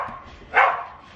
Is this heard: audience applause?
no